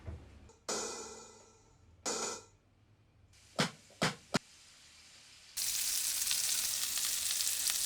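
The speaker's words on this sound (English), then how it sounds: "Once the pan is hot, we add the patties." Beef patties sizzle and fry in a hot oiled pan, with short bursts of sizzling, a few sharp clicks, then a loud, steady hiss of frying close by with no talking.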